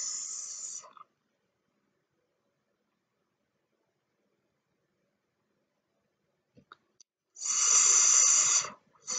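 A snake hiss from a red sound box toy, heard as two short bursts of loud, bright hissing, one at the start and a longer one near the end, with silence and small clicks between.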